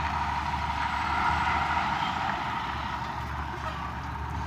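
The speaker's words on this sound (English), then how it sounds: "the dump truck is pouring sidewalks for this new development they're doing here" Dump truck engine rumbling at a construction site for a new development with sidewalks being poured, a steady low, fairly quiet drone heard from a distance without talking.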